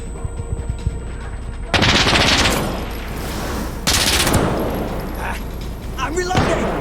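Gunfire in the video game Insurgency Sandstorm comes in loud automatic bursts, two long sustained volleys separated by a short break, then a sharper closing shot over a steady background hum.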